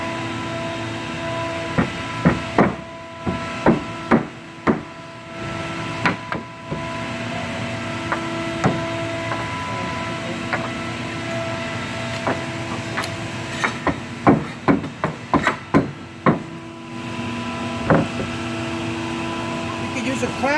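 Table panels being hit into place while a table is assembled, giving sharp knocks that come in scattered clusters over a steady background hum, fairly close and loud.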